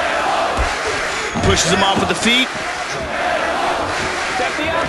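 A fight-night crowd at a mixed martial arts event cheers and shouts in a steady roar, with a commentator talking over the noise.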